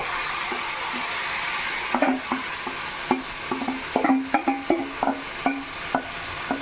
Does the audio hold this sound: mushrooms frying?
yes